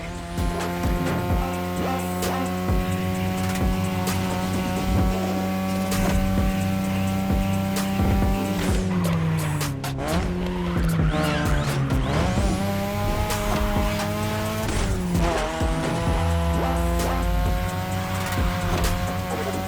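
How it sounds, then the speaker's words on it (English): A 2002 third-generation Mazda RX-7 with a rotary engine racing in a video game, its high engine note droning steadily, then dropping and climbing through gear shifts, with tires squealing, loud and continuous. "Tonight your ride is a 3rd Gen 2002 Mazda RX-7. Lightweight, compact, a sick rotary engine, and one hell of a look."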